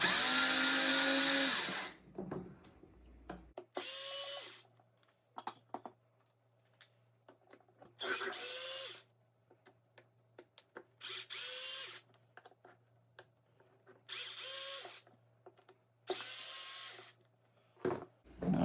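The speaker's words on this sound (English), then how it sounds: "So I'll loosen these up a little bit." Power driver loosening over-tightened screws on a Traxxas Slash LCG RC car, sounding in several short whirring bursts separated by pauses, close and fairly loud, with one longer run at the start.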